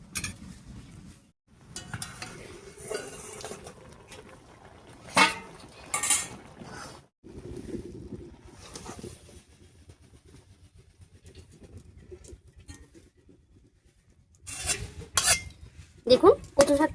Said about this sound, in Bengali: এবারে ঢাকা খুলে জলটা ছেঁকে নিচ্ছি।